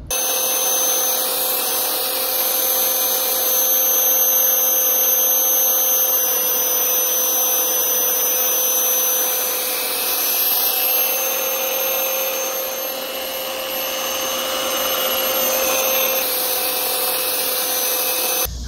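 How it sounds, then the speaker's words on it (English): A handheld power grinder runs continuously against the rubber cleats of a soccer shoe, a loud, steady high-pitched whine with a rough abrasive scraping layer that dips slightly partway through, with no talking. "I'm going to turn this on, and I'm going to run this thing on here like this while it's on, and grind off cleats"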